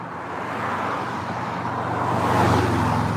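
Cars speed past on a city road with a 40 speed limit, making a continuous roar of road traffic that swells as a vehicle passes close by, heard from the sidewalk with no talking.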